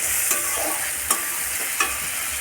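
Spices with dried chilli powder, sugar and turmeric being stirred and fried in a pan for a soybean dopiaza, a steady close sizzle broken by three sharp scrapes of the spoon against the pan.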